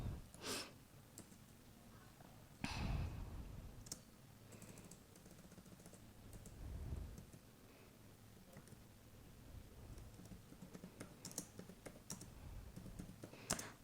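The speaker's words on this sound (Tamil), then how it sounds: "ஸோ நான் ஒரு சென்டென்ஸ் டைப் பண்ணிக்கிறேன்." A computer keyboard is typed on while a sentence is entered for an HTML tutorial. The keystrokes come as a quiet, irregular series of clicks with a few heavier taps in between.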